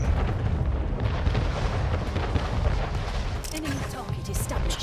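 Cannon fire during a siege in the strategy game Anno 1800, heard as a dense, continuous barrage of booms and blasts with a brief sharper crackle near the end; no talking.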